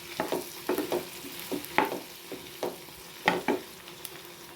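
Three tomatoes sizzle softly in a pan with onions and chilies while a spoon scrapes and stirs in an uneven rhythm, clear and close with no talking.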